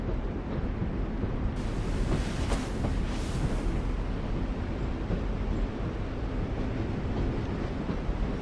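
Steady low rumble of a train in The Walking Dead video game, a continuous broadband drone with a brief brighter rush partway through, no voices.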